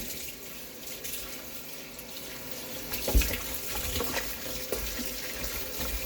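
A kitchen tap pours steadily as raw chicken, marinated in lemon and orange for Haitian stew chicken, is rinsed under it. The steady rush is broken by a single brief knock partway through.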